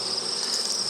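Honey bees at an open hive make a dense, continuous high buzzing hum, steady and close, with no voices.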